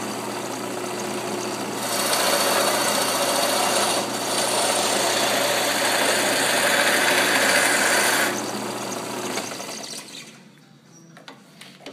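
A lathe takes a cutting pass on a turned part for a gumball machine body, making a steady, loud hissing roar for several seconds that then eases and fades away.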